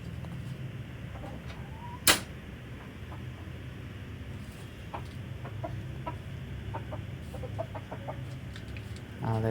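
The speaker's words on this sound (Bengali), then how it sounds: "আমাদের বাড়ির মুরগি" Chickens at a rural family home in Bangladesh give a few short, scattered clucks at moderate distance over a steady outdoor hum, with one sharp knock partway through.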